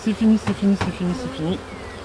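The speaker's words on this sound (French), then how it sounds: "c'est en faisant n'importe quoi que vous énervez vos abeilles" Agitated honeybees swarming around an opened hive during a hive split, a close, loud buzzing that rises and falls in short droning bursts and then settles.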